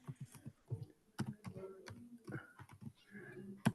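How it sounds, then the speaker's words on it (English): Someone types on a computer keyboard during an online call, a close, uneven run of soft key clicks with short pauses between bursts and no voice over it. "Just a minute, I'm typing."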